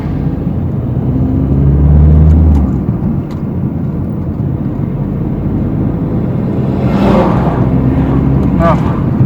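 A car's engine hums and rumbles steadily from inside the cabin during a driving lesson, swelling slightly as it picks up speed, with the instructor's voice speaking briefly over it.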